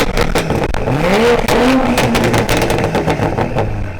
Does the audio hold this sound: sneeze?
no